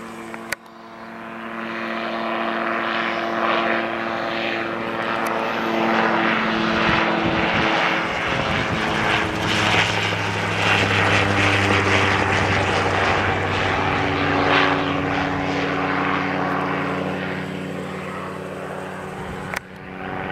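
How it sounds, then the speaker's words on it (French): A helicopter approaching and passing overhead at the Chalets du Sollier, its droning engine rising and falling in pitch, loudest midway and easing off toward the end. "Ah, un bel hélicoptère qui arrive."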